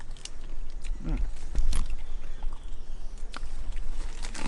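Salak fruit, a crunchy, juicy snake fruit, being bitten and chewed up close, with soft wet crunches and chewing noises under faint background noise and nearby voices.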